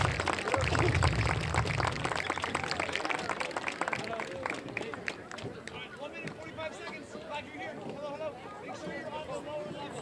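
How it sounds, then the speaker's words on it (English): Stadium crowd at a high school football game applauding graduating senior athletes and their parents, a steady broad wash of clapping and cheering that is loudest early and continues throughout, with crowd chatter mixed in. "Please give this group one more round of applause."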